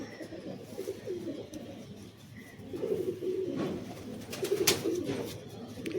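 A Kalshira pigeon pair coos in a loft, with repeated low rolling calls swelling and fading over several seconds amid faint chirps from other birds.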